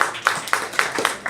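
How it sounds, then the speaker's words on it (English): Several people in an event audience clap in a short, uneven burst, about five sharp claps over a second, close and fairly loud. "let's hold the applause"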